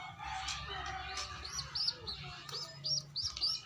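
A pigeon gives soft calls a few times at close range over a low background murmur, mixed with faint chirps.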